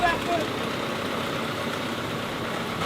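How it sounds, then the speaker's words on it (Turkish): A tractor engine rumbles steadily nearby at a low, knocking idle, continuous throughout with faint background noise. "Hep traktör gidiyor"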